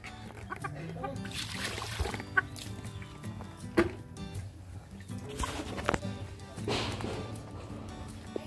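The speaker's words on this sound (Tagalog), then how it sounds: "Painumin natin yung manok." A backyard chicken clucks in short bursts near at hand while water splashes and people chat around it, the clucks scattered irregularly through the talk.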